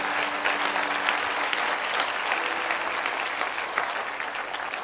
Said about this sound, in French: Acclame, acclame, acclame.